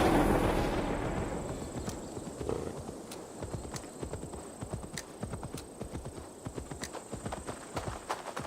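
Horse hooves clip-clop steadily at a walking pace in Assassin's Creed Valhalla, fairly close, over a low ambient rumble with faint clicks.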